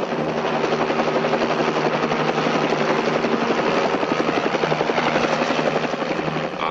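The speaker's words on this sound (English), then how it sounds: "Army sentries went on a search detail, discovered that a helicopter had landed." A helicopter in a 1953 thriller film beats its rotor in a fast, steady, pulsing thud with a buzzing engine drone, loud and continuous from start to finish and heard alone.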